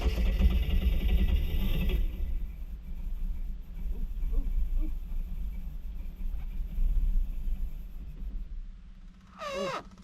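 A rebuilt MerCruiser engine in a 1982 Galaxy boat cranks and catches, a steady low rumble running through most of the stretch, with a sharper burst near the end.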